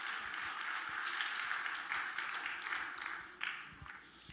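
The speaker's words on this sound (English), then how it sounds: "give them another round of applause" Applause from a church audience after a passion recital, a steady wash of clapping held at moderate distance for several seconds, with no voices over it.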